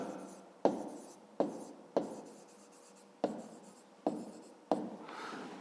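Pen strokes write numbers into a paper notebook in a series of six or seven distinct scratchy taps, each with a short trailing rub. The strokes are close and quiet, with pauses between them and no talking.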